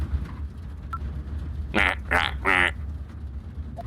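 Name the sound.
duck quacking in Ezrebeth video game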